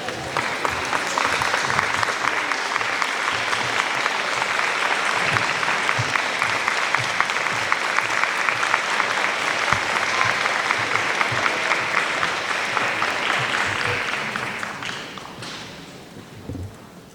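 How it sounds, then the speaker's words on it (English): Sustained audience applause at a teacher of the year ceremony, a dense steady wash of many hands clapping for about fourteen seconds before tapering off, with a few scattered claps at the end. "Thank you, Jacqueline, for the round of applause for an amazing, amazing speech"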